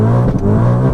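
A supercharged 629 bhp Audi RS4 launches hard on launch control, its engine roaring loud and close with a brief dip before the revs climb again.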